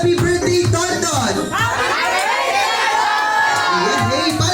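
Crowd of guests at a child's second birthday party, children among them, shouting together in a loud, sustained burst of cheering and laughter close by.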